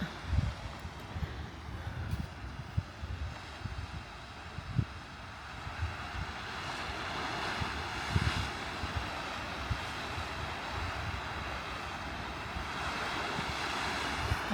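Pacific Ocean surf below Point Loma at Cabrillo National Monument in San Diego, a steady soft wash of waves with periodic low swells under light wind, continuous and moderately distant.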